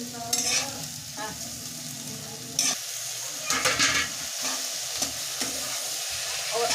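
Food cooking uncovered on low heat in a home kitchen, a soft continuous sizzle with occasional stirring scrapes and utensil clinks, close and fairly quiet.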